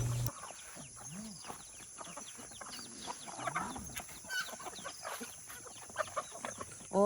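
Farmyard chickens cluck intermittently at close range, with soft rustling and background noise between calls.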